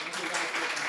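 Audience members at an Innovation Week session at 42 Barcelona on security, privacy and network programming break into applause. It is a brief, dense burst of clapping with voices mixed in.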